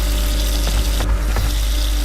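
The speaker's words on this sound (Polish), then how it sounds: "Zakręć tą wodę." Water runs steadily from a household tap, a loud continuous rushing stream close by with a low constant hum beneath it and a few faint knocks over the top.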